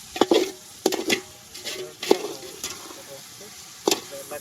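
Beef and spices fry in a pan, with soft sizzling broken by several sharp clinks and scrapes of stirring, close by and moderately loud.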